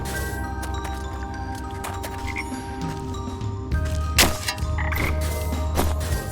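Frogs in the video game Wytchwood croak in a dense, repeated chorus of rasping calls, close and clear, with a few sharp clicks layered on top.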